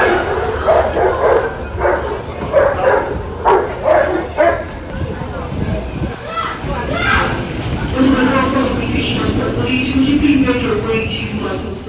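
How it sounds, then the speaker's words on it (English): A dog barks and yips aggressively while attacking a man on a London Tube platform beside the train tracks, with narration running over the commotion throughout. "the dog turned on him, barking and attacking him"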